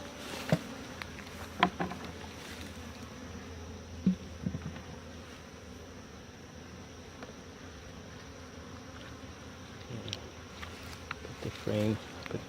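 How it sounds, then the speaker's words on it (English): A hive frame and loose comb in Yaguarón, Paraguay, with honeybees swarming around it in a continuous low, faint buzz, punctuated by a few soft knocks and handling clicks and light murmured voices. "Oh, shake off the bees."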